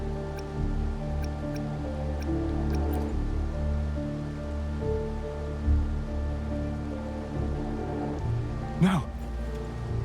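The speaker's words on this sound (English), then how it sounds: "It's just ordinary rain, isn't it?" Steady video game rain patters and drips across surfaces, a constant wet hiss beneath a low droning hum, with a brief splashy burst near the end.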